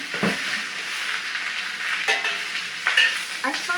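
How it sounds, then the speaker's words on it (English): Choy sum stir-frying in a hot pan with oil, garlic and ginger: a steady close sizzle throughout, broken by a few scraping stirs and clatters of the utensil against the pan. "I find it much easier if I fry the vegetables first"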